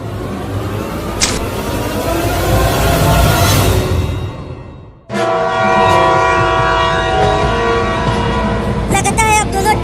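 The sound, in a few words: cartoon trains about to collide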